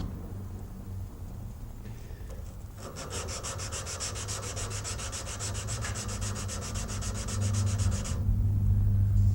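Hand sanding the tip of a knife blade, a steady rasping scrape that starts quietly and builds into fast, even back-and-forth strokes, close and continuous with a low hum underneath.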